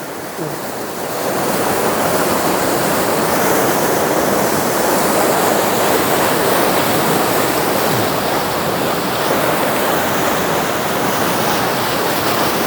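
Rushing, foaming water churns as a steady, loud broadband roar, continuous and close for the whole stretch with no voices.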